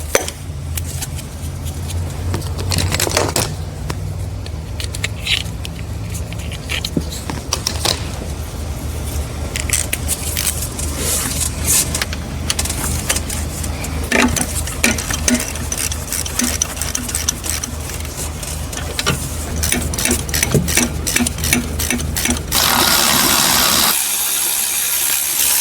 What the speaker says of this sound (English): I'm gonna undo the top bolt